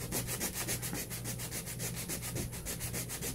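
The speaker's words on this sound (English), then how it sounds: "But get a little sandpaper here." Sandpaper rubs varnish off a robot in quick, steady back-and-forth strokes, a close, even scratchy rasp repeating about every fifth of a second with no talk.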